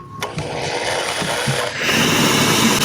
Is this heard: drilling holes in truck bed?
yes